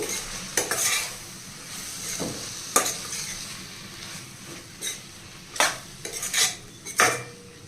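A metal spoon stirs chilli powder and spices into a drumstick and lentil curry in a pan, with scraping, clinking strokes over a soft sizzle, irregular and close, with no talking.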